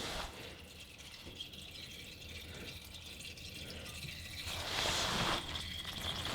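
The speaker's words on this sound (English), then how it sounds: "go ahead and let that drain, and then after it drains, you'll unscrew it a little more, and it'll drain a little more" Engine oil draining from a loosened oil filter on a Corvette C7, a quiet, steady trickle and drip of liquid with a louder splashing surge near the end.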